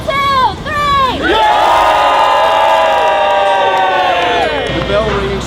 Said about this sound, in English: I promise this is the last big cheer